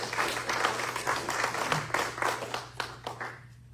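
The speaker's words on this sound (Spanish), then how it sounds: "Dele un aplauso al Señor." A church congregation claps during a sermon, a brisk run of scattered, distinct claps over a low steady hum that thins out toward the end.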